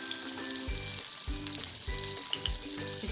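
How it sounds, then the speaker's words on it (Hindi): Shami kebabs fry in hot oil in a frying pan with a loud, constant sizzle, while a rhythmic series of soft thuds repeats roughly every half second underneath. "इस तरह से हम कबाब को डालेंगे और फ्राई कर लेंगे।"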